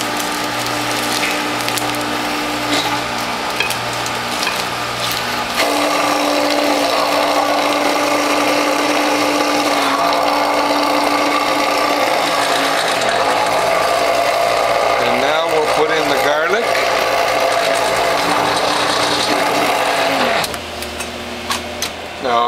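A WHF juicer grinding French sorrel through a 1/8 inch hole grid, a loud, steady mechanical grinding and whirring that runs throughout and changes pitch near the end.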